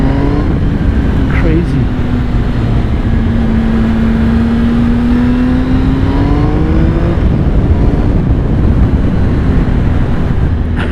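A 2016 Triumph Speed Triple S motorcycle on its stock exhaust revs and pulls, engine pitch rising and falling under heavy road and wind roar while riding; a rider speaks briefly.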